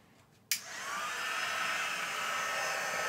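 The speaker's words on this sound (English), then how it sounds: "So I'm then going to come in with my heat gun." A heat gun switches on abruptly and blows a steady, loud whooshing hiss of hot air while drying Nuvo sparkle embossing powder on a Cricut-made craft piece, continuing without pause to the end and with no talk.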